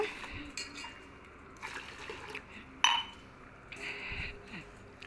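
Foxtail millet is washed by hand in water in a vessel. Sloshing and splashing come with occasional clinks of the container, close and fairly quiet.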